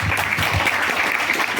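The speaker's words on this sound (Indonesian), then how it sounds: "Tepuk tangan untuk dia." Short burst of audience applause after a poetry reading, loud and close, a dense patter of hands lasting under two seconds.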